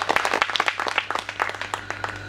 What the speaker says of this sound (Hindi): एक बार जोरदार दोनों हाथ उठा के तालियां बजाएं